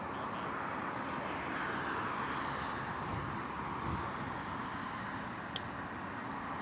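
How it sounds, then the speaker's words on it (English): A British Airways A320 departs Heathrow in the morning. Its jet engines make a steady, broad roar that stays at an even level throughout, with a brief sharp click near the end. "British Airways A320 heading out."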